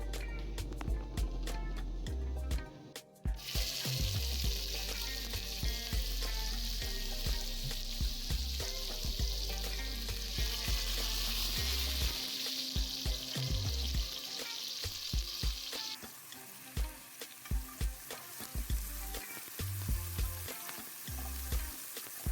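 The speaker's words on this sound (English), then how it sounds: "now that my oil is hot, I am just going to add my onion, sweet pepper, and my spring onion" Onion, sweet pepper and spring onion fry in hot oil in a frying pan for a Jamaican-style frittata, giving a loud, steady sizzle with frequent clinks and scrapes of stirring throughout and a hiss that eases toward the end.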